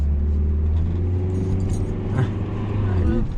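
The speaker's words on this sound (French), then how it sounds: "On fait un démarrage. Ok, super. On accélère. On met la 2." A car engine hums low and steady during a driving lesson, building slightly as it accelerates toward the end, with voices talking over the drone.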